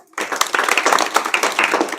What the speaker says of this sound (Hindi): ताली बजाओ बहन जी के लिए।